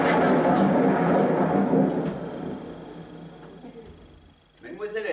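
A thunderstorm on a theatre stage: loud rolling thunder over heavy rain that slowly fades, then a voice speaks as the rumble returns at the close.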